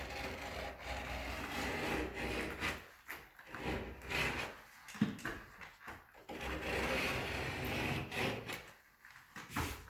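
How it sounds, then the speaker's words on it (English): Drywall knife beveling out a taped joint in a hallway, a quiet, steady scraping and rubbing that comes in repeated strokes for about ten seconds, with no talk. "I'll just take and I'll bevel it out with my knife here."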